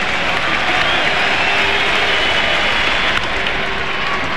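A baseball crowd at the 1999 Home Run Derby cheers and applauds, a broad, loud, continuous roar of a packed stadium that holds level throughout with no voice on top.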